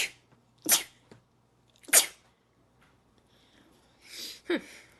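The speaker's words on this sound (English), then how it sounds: "I'm going to sneeze some more." Two sharp sneezes a second apart, followed by a breathy sniffle and a third smaller sneeze-like burst, close and otherwise quiet.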